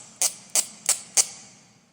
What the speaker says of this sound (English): it can make a rasping noise that sounds a little like this.